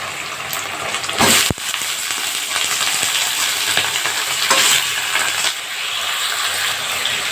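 Desi chicken meat frying in a pan with browned onions, a loud close sizzle and hiss with a sharp burst as the meat drops in, then steady crackling and stirring.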